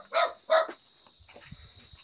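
A dog gives two quick, sharp barks up close, followed by faint low murmuring voices in the background.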